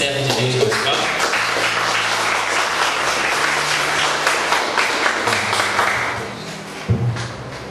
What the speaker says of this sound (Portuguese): Vamos receber o servo de Deus com os palmas